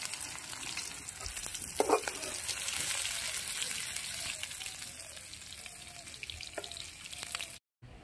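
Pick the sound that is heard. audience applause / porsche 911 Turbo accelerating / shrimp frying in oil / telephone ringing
shrimp frying in oil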